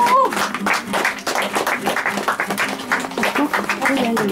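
Guests at a Kazakh betashar wedding ceremony clap in a lively, continuous patter while a voice keeps talking over the applause.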